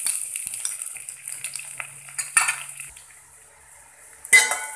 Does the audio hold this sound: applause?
no